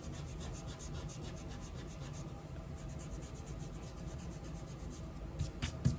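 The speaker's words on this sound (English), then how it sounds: "then you erase the letter inside" Eraser rubbing out a pencil letter on paper during a 3D lettering drawing, a steady soft scrubbing rasp that runs continuously, close up, with a few firmer strokes near the end.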